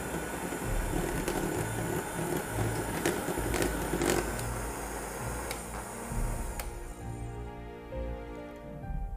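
Electric mixer whirring at speed 4 while beating chocolate cake batter with eggs, a steady buzzing motor with scraping and clicks, which stops near the end and leaves a fading hum.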